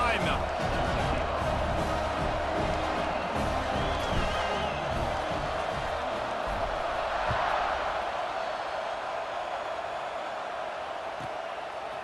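Stadium crowd in EA Sports College Football 26 before a kickoff, a broad steady roar of fans filling the background while a commentator talks over it, with occasional thumps and cheers.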